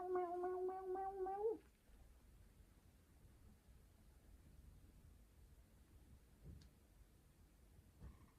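A pet cat named Perle gives a few close, fairly loud meows at the start, then falls quiet under low room noise.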